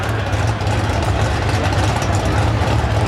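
A drag racing car with a Grand Am body and an Albert race engine idles at the 2007 IHRA President's Cup Nationals, a steady, loud, low rumble that holds unbroken throughout.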